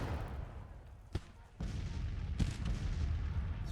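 Civil War artillery fires in Grand Tactician, distant heavy booms punctuating a steady roar of battle, two or three sharp reports standing out over the continuous din of musketry and field noise.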